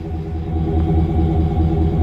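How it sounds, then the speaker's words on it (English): 2017 Chevrolet Silverado 2500HD plow truck with a 6.0L V8 idling nearby, a loud, steady low rumble with an even, pulsing beat and no talk. "Get a little clip of this 6-liter idling."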